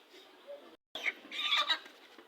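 Chickens cluck in a short burst of overlapping calls, fairly close, after a brief moment of quiet.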